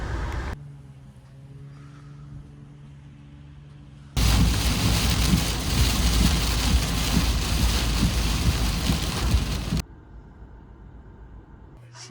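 Heavy rain roars down for several seconds, loud and close, then cuts off abruptly; quieter background before and after the downpour.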